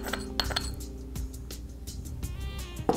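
Glass clinks sharply as a product is set onto parchment paper on a glass ointment slab during pharmacy compounding, several bright taps over a low steady hum.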